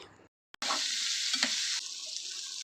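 After a short silence, fish pieces with a handful of onion and garlic hiss and sizzle loudly in a hot pan while being stirred, a steady close-up frying sound.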